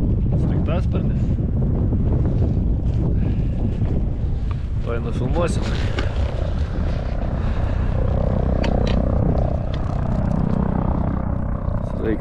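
A medical helicopter passes over a frozen lake during trout ice fishing, its rotor drone faint and largely buried under heavy, constant wind buffeting the microphone, with a brief spoken remark.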